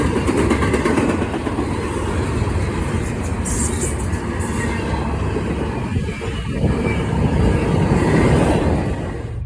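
Norfolk Southern 11N autorack freight train, a single GEVO locomotive pulling 47 cars past Berea, rumbling steadily and loud throughout with a dense low roar and rolling car noise.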